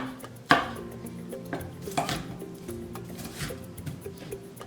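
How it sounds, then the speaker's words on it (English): A knife dicing onions on a cutting board makes a handful of irregular sharp knocks and taps, close and fairly quiet, with one louder chop near the start and no talking. "I'm just dicing these onions"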